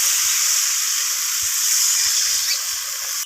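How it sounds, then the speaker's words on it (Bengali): Water poured into a pan of fried spice paste for a light rohu fish curry with nigella seeds and pointed gourd, giving a steady, loud, close sizzle and hiss that runs unbroken throughout, with faint low clatter beneath. "এখন আমি প্রয়োজন মতো এখানে জল দিয়ে দেব।"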